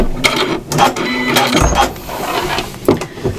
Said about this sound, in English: Little back stitch just to secure all that, straight across